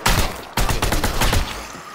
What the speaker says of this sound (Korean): 아니 쏘고 있어 이제 총 바꿔서